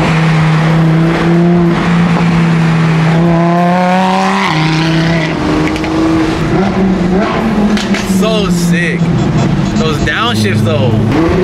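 Nissan R35 GTR supercar with a loud flame tune, engine droning steadily then dropping and rising through downshifts, close and loud, with people talking over it.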